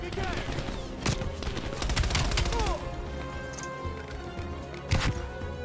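Gunfire in Call of Duty Black Ops Cold War, with a dense burst of rapid shots in the first seconds and a few sharp single reports later, mixed with other battle noise.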